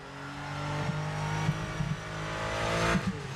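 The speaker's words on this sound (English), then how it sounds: "Go, little Porsche, go." A small Porsche in a racing video game revs hard with a rising engine note, punctuated by several brief tyre-squeal bursts as the car slides, loud and close with no talk.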